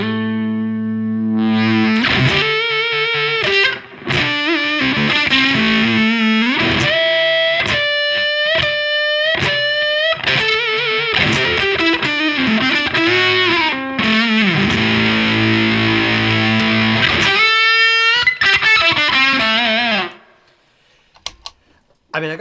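A Harley Benton electric guitar runs through heavy distortion with the noise gate off, playing sustained chords and bending lead notes loudly for about twenty seconds, then cutting to near silence with faint handling noise at the end.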